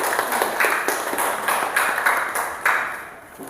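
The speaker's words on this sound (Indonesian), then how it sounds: "beri tepuk tangan untuk kelompok 3." Classroom applause for a student group: a dense patter of many hands clapping at moderate distance, steady for a few seconds and then thinning out toward the end.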